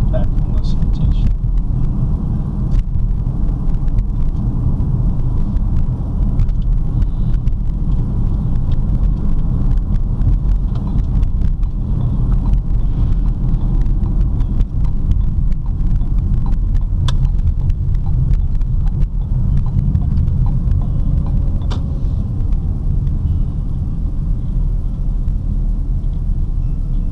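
Interior road noise of a 2013 Ford Escape driving on city streets, a constant low rumble and hum beneath someone talking throughout.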